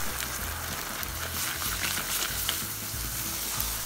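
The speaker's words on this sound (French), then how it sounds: "on va mélanger tout ça avec une spatule assez rapidement" A hot peanut nougat mixture with roasted peanuts is stirred quickly with a spatula, making a loud, continuous sizzle and scraping that holds steady throughout without pause.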